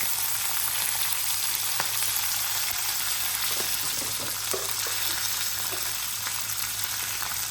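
Cumin seeds, curry leaves and ten or twelve chillies fry in hot oil in a pan, making a steady, even sizzle with a few faint pops and clicks. No one speaks over it.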